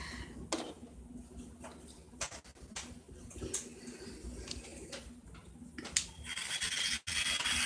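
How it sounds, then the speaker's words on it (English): Scratchy rubbing and rasping strokes of a nail sanding band filing down polygel, close up and irregular, with occasional sharper ticks against a quiet steady hum. "I'm going to get my sanding band out."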